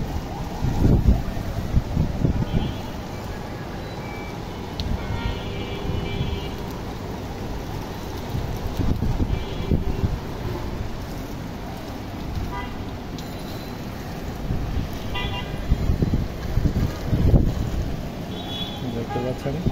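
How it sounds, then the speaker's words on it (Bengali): Strong cyclone winds roar and buffet the microphone during heavy rain in Dhaka city, a continuous rushing blast that swells in gusts, with a voice speaking over it and faint distant horns. "এই সাইডে প্রচুর পরিমাণ বৃষ্টি আর প্রচুর পরিমাণ বাতাস হচ্ছে"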